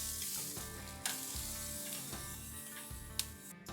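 A ribeye steak sizzles steadily on a hot grill, a close, continuous frying hiss with faint crackles and a couple of sharp pops, no voices.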